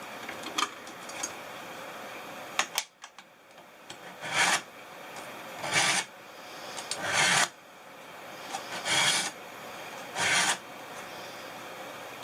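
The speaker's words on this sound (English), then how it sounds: "Might as well sharpen the knife before I even start." A kitchen knife being sharpened with repeated rasping strokes, about seven distinct scrapes in an uneven rhythm, close and fairly loud with short pauses between them.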